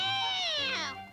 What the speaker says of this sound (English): It's only a cat, and you rolled over its tail.